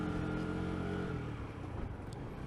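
A fuel-injected motorcycle engine idles and runs roughly at low revs, a steady, rumbling tone with slightly uneven pulses, close and alone.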